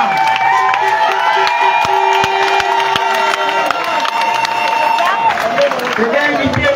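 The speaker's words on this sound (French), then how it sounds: "On applaudit pour les mamans." A rally crowd at a political meeting in Akébé Poteau applauds and cheers in a continuous loud wash of clapping and voices, with amplified sound and sustained tones blending through the din.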